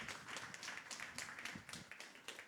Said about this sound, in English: So a round of applause for Nick and Jeff as well